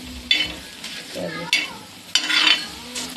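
Tomato, onion, green chili and crushed garlic roast on a hot griddle, giving soft sizzles and repeated scraping stirs in short bursts, close up and without talk.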